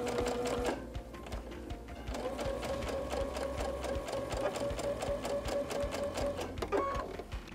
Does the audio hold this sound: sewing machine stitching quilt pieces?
yes